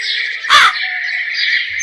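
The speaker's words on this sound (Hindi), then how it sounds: "ये सुनकर कौवा जोर जोर से रोने लगता है।" A crow gives a single loud, harsh caw at close range, cutting through a steady high-pitched background tone.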